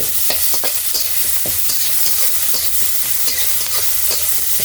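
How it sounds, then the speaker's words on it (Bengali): Onions frying in fish oil over a wood-fired stove: a loud, close, continuous sizzle with quick scraping stirs and light clatter at intervals. "আমি মাছের তেলের ভিতরে আমি পেঁয়াজ দিচ্ছি দিয়ে হালকা বাদামি করে ভেজে নিচ্ছি"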